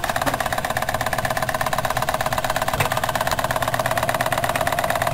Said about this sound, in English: We're in reverse now, which is the slower direction for this particular engine.